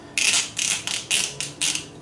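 Thin metal snips cutting security mesh for a door, five crisp snipping bursts in a steady rhythm, close and fairly loud with brief quiet gaps between cuts.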